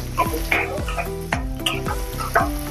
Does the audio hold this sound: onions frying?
yes